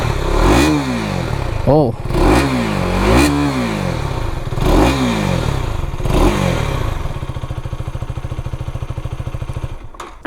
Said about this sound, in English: The idle sound of this KTM Duke 250 is much quieter but also have this high note on higher RPMs.